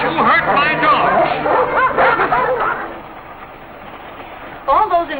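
Several dogs bark and yip in quick bursts over excited voices, then the noise drops before a short final burst of barking.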